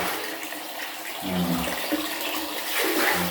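Tap water runs steadily into a tank, a soft continuous rush with faint gurgling surges partway through.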